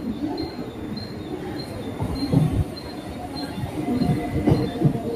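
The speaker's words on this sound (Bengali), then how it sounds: "আমরা এবার ট্রেনে উঠবো" A train stands at a station platform, with low rumbling and soft metallic clatter and squeal rising and falling in the background, moderately distant, and no clear voices.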